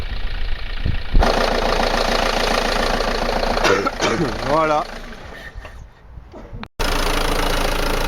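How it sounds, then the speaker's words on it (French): A 2003 Peugeot 307 2.0 HDi 90 hp diesel engine idles steadily with a low rumble while someone talks over it nearby, the motor running continuously throughout. "le moteur tourne"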